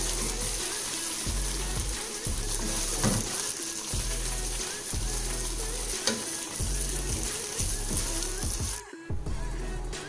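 Bhuna keema is scooped from a pan into a dish, giving a continuous close sizzle with soft scraping and a low rhythmic hum underneath, then a brief dip near the end.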